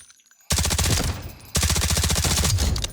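K416 rifle fire in Delta Force comes as two loud, rapid automatic bursts, the first about a second long, then a short pause, then a longer stream of shots.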